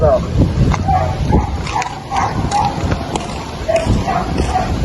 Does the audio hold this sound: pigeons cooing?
no